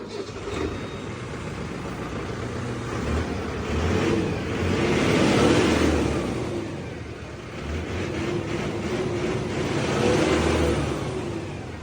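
A Mahindra 75 turbo tractor engine runs close by, a loud continuous diesel rumble that swells and eases as it revs, with a turbo whoosh rising over the steady chug.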